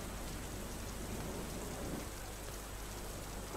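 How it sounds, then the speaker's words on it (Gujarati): Heavy rain pours onto streets during a thunderstorm in Himmatnagar, Sabarkantha, a dense, continuous roar of downpour with no voices. "ધોધમાર વરસાદ વરસતા રસ્તા પર પાણી ફરી વળ્યા હતા"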